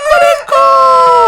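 A rooster crows loud and close in one full cock-a-doodle-doo with a brief break partway, alone and without talk. Morning countryside with cows and sheep nearby.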